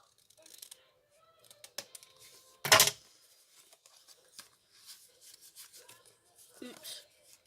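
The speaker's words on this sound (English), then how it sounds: "And then you're just going to cut your excess off." Scissors cut excess paper off a handmade slider card, with quiet scattered snips and rubbing paper sounds, one louder crisp cut in the middle, recorded close in a quiet room.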